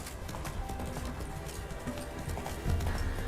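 Roach the horse gallops in The Witcher 3, hooves clip-clopping in a quick, even rhythm at moderate distance, fairly soft, with game ambience underneath.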